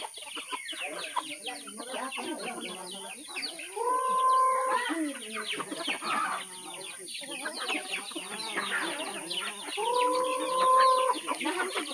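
Chickens cluck and chatter close by in a busy barnyard, with a couple of longer drawn-out calls standing out over the steady background clamor.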